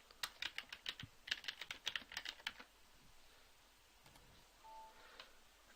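Fingers type on a computer keyboard in a quick, close run of crisp key clicks that stops after a few seconds, followed by near silence and a faint short tone.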